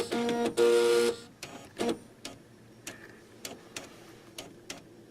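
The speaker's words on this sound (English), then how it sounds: "And now the printer's going to reset and do its thing." An Epson Stylus Color 800 inkjet printer resets. It gives a few loud mechanical buzzing whirs at the start, then settles into a series of quieter ticks and clicks from the print head moving. The sound is close, with no voices.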